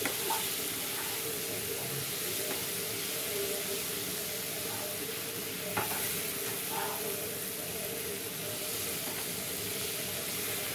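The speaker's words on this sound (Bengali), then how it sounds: "এবার এটাকে নেড়ে মশলাটা একটু কষে নেবো।" Crushed tomatoes and masala sizzle steadily in a frying pan for a Bengali prawn dish, with occasional scrapes and knocks of a stirring spoon over a constant hiss, no talking.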